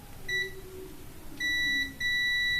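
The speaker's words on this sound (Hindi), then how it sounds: "सेंसर मैग्नेट गोली जैसे ही इसके सामने आती है तो ये बीप देना शुरू कर देता है" A sensor tester for an instant water geyser beeps near a magnet, giving a short tone and then two longer steady beeps separated by a brief gap, clear and close.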